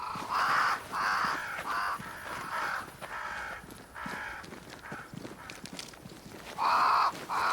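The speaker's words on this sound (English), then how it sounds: "Crows. They flock to that great tree up there." Crows caw in the video game Banishers: Ghosts of New Eden, repeated harsh calls in uneven bursts that sound fairly near, over a soft rustling background.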